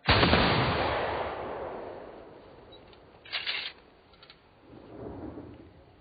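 A rifle volley from a line of soldiers crashes out loud at once and rumbles away, followed by a smaller burst of shots and a faint scatter later on.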